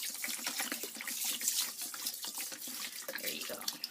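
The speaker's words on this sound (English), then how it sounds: "First, you want to fill the bowl with a lot of water." Tap water runs steadily into a bowl holding three cups of rice, a continuous splashing rush heard up close with no talk over it.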